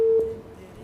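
A telephone line tone sounds as a call comes in on a live morning TV show, a brief steady beep that fades quickly, faint and alone.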